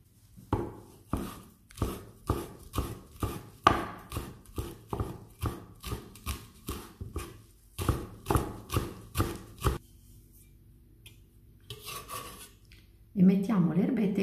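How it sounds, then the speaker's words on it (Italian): Steady rhythmic knife chops through fresh mint and parsley on a board, about two per second, close and crisp, then a pause and some faint handling noise near the end. "Iniziamo a tagliare finemente le erbette."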